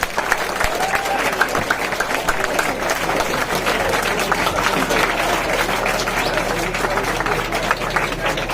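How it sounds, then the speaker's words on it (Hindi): A crowd at a national youth games event claps to welcome young athletes, a kabaddi team, with steady applause under a low engine-like drone and some background murmur. "आपकी तालियां मिलनी चाहिए।"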